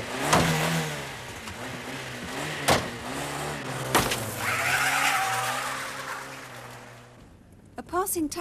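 A car in a street chase after a robbery on Linthorpe Road in 1989 skids with squealing tyres and revs hard as it accelerates away, loud and close, with sharp bangs and a short burst of voices near the end.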